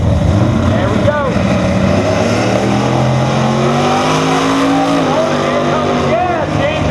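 X275 drag race cars launching and racing at MIR, a loud roar of engines rising steadily in pitch over several seconds with a shift near the end, while a commentator talks over it.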